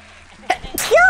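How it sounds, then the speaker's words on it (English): A single quick sneeze, close and fairly loud, with a sharp breathy burst followed by a short squeaky vocal tail, heard alone against a quiet background. "That was a sneeze!"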